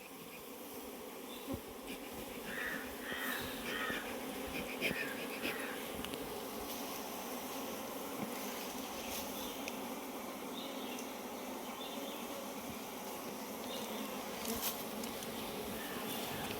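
Honey bees drone steadily and closely around an open hive during a first honey harvest. The buzzing is continuous, with no voices.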